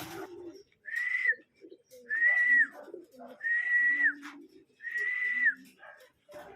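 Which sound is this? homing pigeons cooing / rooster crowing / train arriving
homing pigeons cooing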